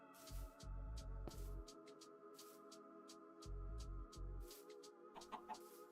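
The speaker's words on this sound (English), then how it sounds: "I got a chicken." Minecraft chicken clucking in a series of short repeated clucks, with a quiet steady hum and light game sounds beneath and no talk.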